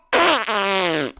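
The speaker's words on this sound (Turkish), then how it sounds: "Sen mi osurdun?" A cartoonish fart effect from the Minecraft video game: one loud, drawn-out, buzzing blast that slides downward in pitch for about a second and stands alone.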